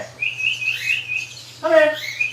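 A cockatiel gives a few clear, close whistled chirps, a sustained call followed by a brighter, rising burst, with quiet pauses between and a low steady hum underneath.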